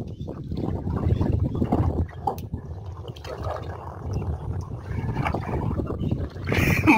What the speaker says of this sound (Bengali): আমরা এই যে শেষমেশ নৌকায় উঠলাম।